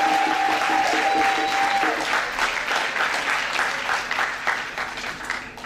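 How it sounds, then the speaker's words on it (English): Wedding guests applaud after the groom's vows, a steady, full round of clapping from a crowd, fairly close and continuous throughout. "let's give him a round of applause for that."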